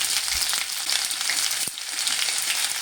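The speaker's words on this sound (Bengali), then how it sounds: "ওই তেলের মধ্যে দিয়ে দিচ্ছি হাফ চামচ মতো পাঁচফোড়ন, আর দিয়ে দেব দুটো পেঁয়াজ" Chopped onions and half a spoon of panch phoron frying in hot oil: a loud, even, hissing sizzle fills the whole stretch, broken once by a soft knock, with no talk.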